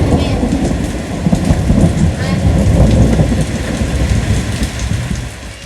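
Steady heavy rain pours down loudly and continuously, a dense close wash of drumming with no pauses.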